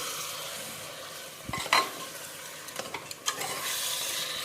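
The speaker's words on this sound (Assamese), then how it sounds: "এইখিনি এতিয়া আমি ভালদৰে লৰাই দিম।" Food is stirred in a pan on the gas stove over a soft sizzle, with a few scraping clinks of the utensil against the pan, close and fairly quiet.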